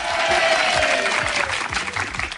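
A crowd claps continuously and fairly loudly, with scattered low thuds and a faint humming tone beneath the clapping.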